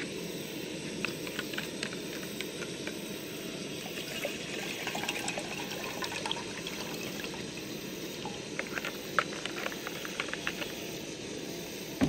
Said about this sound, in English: Bring some water to a boil